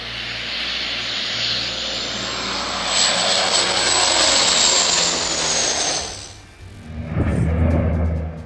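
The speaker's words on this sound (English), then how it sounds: "While flying at low altitude to fight the fire, the CL-415 struck the terrain" A CL-415 firefighting aircraft flies at low altitude near a fire, its loud propeller engine roar building and sweeping past, then fading briefly before another rumbling surge.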